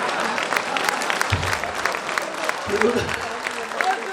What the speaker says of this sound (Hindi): अब आनंद लेना तालियों के साथ।